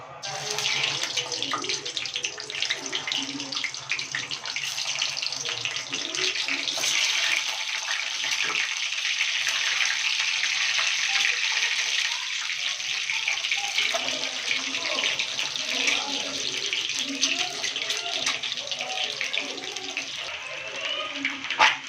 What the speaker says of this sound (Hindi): दोस्तों मेरा तेल गर्म हो गया, मैं अब इसमें अंडा डालती हूँ।